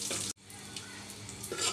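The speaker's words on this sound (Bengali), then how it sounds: "এবার আমি ড্রাই ফ্রুটসগুলো একটু ভেজে নিচ্ছি," Dry fruits frying in a spoonful of ghee in a cooking pot, a steady close sizzle with stirring, briefly cut off for a moment before resuming, no talking.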